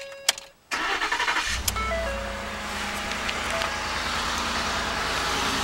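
A 2013 Ford F-150 pickup truck engine cranks with a rapid stuttering whir, catches, and settles into a steady, close idle hum that continues to the end.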